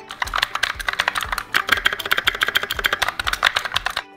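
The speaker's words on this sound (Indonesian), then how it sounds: "Suaranya clicky, feel-nya jelas di setiap tekanan, suka dengan sensasi klasik mechanical keyboard yang renyah." Rapid, steady typing on a Rexus mechanical keyboard fitted with clicky blue switches, each keystroke a crisp, close click in a dense continuous rhythm with no voices.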